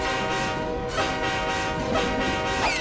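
A cartoon train horn blows in long, loud sustained blasts with a steady rumbling rail backdrop, the tone rising in pitch near the end.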